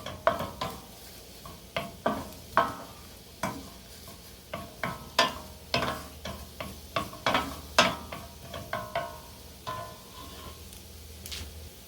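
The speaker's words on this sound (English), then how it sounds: "So we're going to go ahead and let those shallots sweat down a little bit." Shallots sizzle steadily in a pan for pumpkin risotto while a spoon stirs them in repeated scraping strokes, with sharp clatters against the pan rising above the close, continuous frying hiss.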